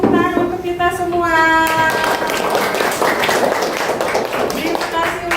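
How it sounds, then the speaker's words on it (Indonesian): A group of students applauds together in a classroom, dense steady clapping carrying on for several seconds while voices and children's chatter mix in over it. "berikan tepuk tangan untuk kita semua"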